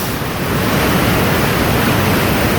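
Rushing river water flowing beside a sandy rock ledge near an old masonry arch, a loud, steady broadband roar with no pauses or voices.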